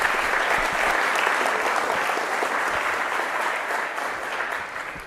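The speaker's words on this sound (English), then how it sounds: "let's give Ian a round of applause" Sustained applause from a conference audience at a security talk, dense and steady clapping throughout, tapering slightly toward the end with no speech over it.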